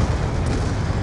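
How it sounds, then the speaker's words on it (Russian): Explosions and fiery destruction in the Black Ops 2 campaign, a dense, continuous rumbling roar with heavy low-end booms running through the whole moment, loud and close. "Все взрывается, ну."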